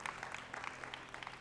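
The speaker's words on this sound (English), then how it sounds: "give you a round of applause for your parents for having you here" Audience at a basketball foundation speaking event applauding parents, a steady, fairly faint patter of many hands clapping throughout with no voices.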